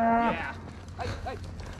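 A cow moos once, loud and close, during a cattle drive, followed by quieter low bovine grunts and outdoor background sound.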